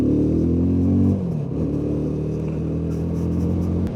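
Benelli TRK 251 motorcycle engine holding a steady hum, then dropping and pulling again with a low rumbling drone, close and loud throughout.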